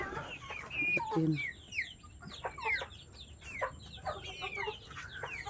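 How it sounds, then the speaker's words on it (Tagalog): Chickens kept at a rural provincial home cluck and chatter in short, close bursts, with a brief spoken phrase among them. "Ito yung ilang mga manok dito."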